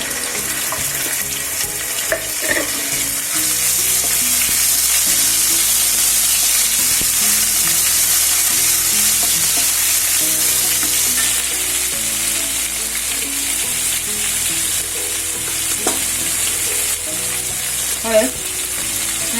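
Garlic and cumin sizzle in a pan with a loud, steady, close frying hiss that runs unbroken, with occasional light stirring taps and scrapes.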